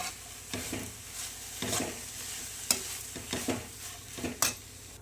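Flattened rice (poha) stirred in a pan with ghee, a soft background sizzle broken by several scraping, clattering strokes of the spoon at irregular intervals.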